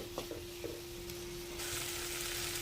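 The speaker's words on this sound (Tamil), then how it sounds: "இப்போ மசாலாவோடு சேர்ந்து தக்காளி வெங்காயம் நல்லா வதங்கட்டும்" Tomato and onion with masala sauté in a pan for a brinjal gravy, giving a soft, steady sizzle that turns a little brighter and louder after a couple of light taps, with a faint constant hum beneath.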